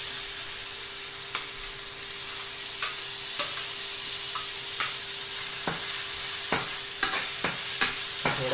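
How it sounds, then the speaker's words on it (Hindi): Ginger, garlic, black pepper and green chili fry in a pan with a steady, loud sizzle, while occasional scrapes and taps of stirring come through close up. "अभी इसमें अदरक शामिल कर रहे हैं, अदरक लहसुन काली मिर्च, और इसको भुनाई करेंगे।"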